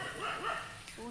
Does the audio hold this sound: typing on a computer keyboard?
no